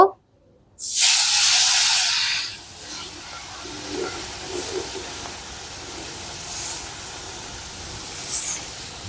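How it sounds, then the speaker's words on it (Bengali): Climbing perch (koi fish) go one by one into hot oil in a heated karahi, setting off a sudden loud sizzling hiss after a moment of quiet that soon settles into a softer, steady frying with small crackles. "বন্ধুরা এবার একে একে কই মাছগুলো ছেড়ে দেব"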